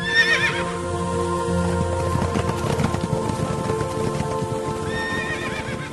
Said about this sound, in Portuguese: O primeiro carro era puxado por cavalos vermelhos, o segundo por cavalos pretos